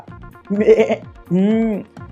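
Goat-like bleats used as a sound effect, two wavering calls about a second long each, loud and close, with no talk over them.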